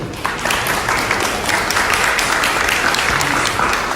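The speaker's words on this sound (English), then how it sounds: "Please give it a round of applause for Andrew" An audience at a product management conference claps for a speaker taking the stage, sustained dense applause that starts abruptly and holds at a fairly loud level to the end.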